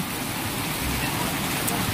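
Rain falls steadily at a birthday gathering, a dense even hiss with a faint low rumble underneath, continuous throughout the short stretch.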